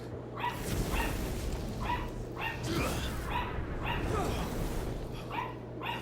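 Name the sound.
dog barking in the video game Final Fantasy XVI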